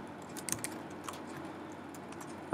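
Quiet, close keystrokes on a computer keyboard while HTML code is typed, irregular light clicks scattered over a low steady background hum.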